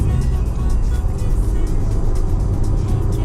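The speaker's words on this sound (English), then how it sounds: "Oh yeah, you can really hear that turbo." A 2016 Volkswagen Jetta SEL with the 1.8T turbo engine accelerates, giving a loud, steady engine roar with road noise as heard from inside the cabin.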